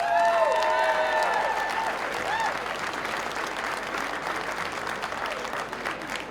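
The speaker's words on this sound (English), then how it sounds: "a big massive applause please to Castleblayney" Crowd applause for the Castleblayney minor football team after a Division 1 final win, sustained clapping with light cheering, strong at first and easing slightly over several seconds.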